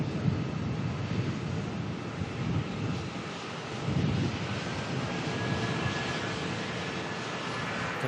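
Jetstar airliner taking off at Melbourne, its engine roar rumbling steadily at a distance, mixed with gusts of wind buffeting the microphone.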